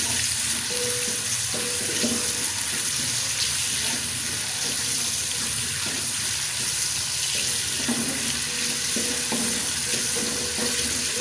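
A medium-sized onion fries toward light brown in a pan, a constant soft hiss of sizzling oil with faint scraping and stirring sounds throughout and no speech.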